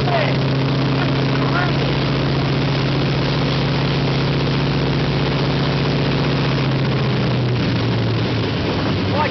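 A Pratt & Whitney R-4360 radial aircraft piston engine, the powerplant of the Peacemaker bomber, runs steadily and loud with a deep droning rumble throughout, its pitch shifting slightly near the end, with faint voices underneath.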